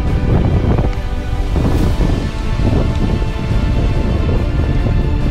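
Loud, steady wind buffeting with a broad roaring rush that gusts and swells throughout, heard while paragliding.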